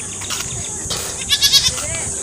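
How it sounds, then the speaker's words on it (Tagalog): Small goats bleat at a rural farm, a short run of three or four close, wavering bleats in the second half over steady outdoor background noise, with faint voices nearby. "So cute ang mga kambing, no?"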